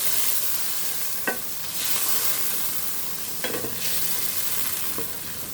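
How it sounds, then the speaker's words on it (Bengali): Snakehead fish frying in a pan with a little water, a steady sizzle running throughout, broken by a few scraping stirs of a spatula around the second mark and later. "এরপর শোলে মাছটা ঢেলে দিলাম।"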